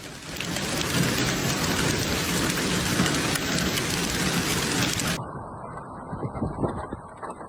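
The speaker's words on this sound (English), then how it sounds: "A strong thunderstorm cyclone hits Saudi Arabia." Heavy rain pours steadily during a strong thunderstorm in Mecca, a dense loud roar with thunder rumbling beneath, then the downpour cuts to a quieter, muffled rumble near the end.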